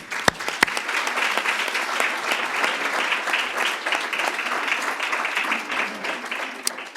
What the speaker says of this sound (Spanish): Yo creo que antes de arrancar nos merecemos un pequeño aplauso de recompensa.